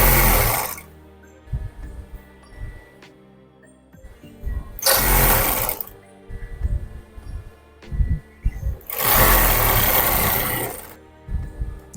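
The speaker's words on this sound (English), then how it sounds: "So you come to the other side also and just sew your ½ inch." A sewing machine runs in three loud bursts while a ½ inch seam is stitched on a corporate outfit, with quieter handling and fabric sounds between the runs.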